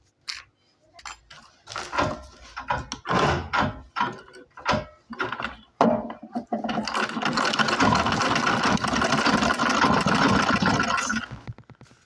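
A sewing machine runs in a continuous fast whirring burst for several seconds as it stitches two pieces of fabric, close and steady, after a stretch of choppy handling noises.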